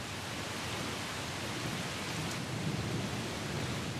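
A rain downpour hisses as a dense, even wash of noise, steady and fairly faint throughout with no break.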